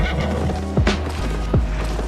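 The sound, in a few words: horse neighing and hooves in a video game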